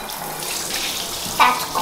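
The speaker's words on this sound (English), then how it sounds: "So let's get the water started." A handheld shower tap runs water steadily in a bathroom, a continuous close hiss and splash with a slight surge near the end, no speech.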